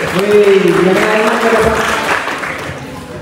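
Children at a school Scout camp opening ceremony clap together, a steady mass of applause with voices and cheering mixed in, fading slightly toward the end.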